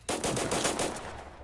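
Rapid automatic gunfire from a large-calibre weapon in the shooter Total Conflict: Resistance, a dense burst of closely spaced loud shots running for over a second with no talk.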